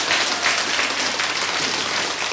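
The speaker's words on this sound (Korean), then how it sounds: "박수 치려면 단체를 쳐요" A church congregation at a summer revival service claps together in a sustained, dense wash of applause that holds steady throughout, with no voices standing out.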